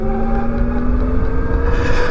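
Zero DSR electric motorcycle revved with the throttle, a steady whining motor drone with tonal hum that rises slightly near the end, close and alone.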